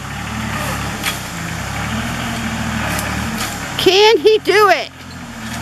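A truck's engine drones steadily while its tire spins in a Japanese log riding video game through the woods, with a voice talking over the low rumble near the end.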